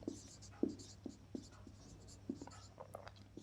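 A pen writing on paper, with quiet scratchy strokes and taps in an irregular rhythm, close and faint.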